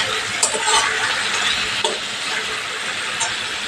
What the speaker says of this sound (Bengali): ভেজে রাখা আলুটা দিয়ে একটু নেড়ে নেবো